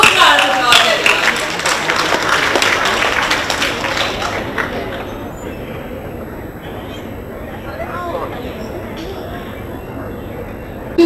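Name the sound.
audience applause welcoming a speaker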